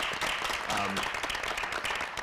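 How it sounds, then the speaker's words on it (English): A crowd claps steadily in dense, continuous applause, with a voice briefly audible underneath. "So a round of applause for them."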